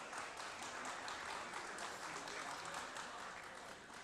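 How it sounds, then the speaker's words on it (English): An audience at the 3rd Pakistan Climate Conference 2025 gives sustained, dense applause that fills the room evenly for several seconds, with voices mixed in beneath the clapping. "तो अगर आप OICCI के लिए बहुत सी तालियां बजा दें"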